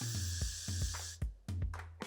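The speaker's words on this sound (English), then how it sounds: "put it underneath the hair and then spray it" Short bursts of hairspray hiss close by, several quick sprays in an uneven rhythm with brief pauses between them.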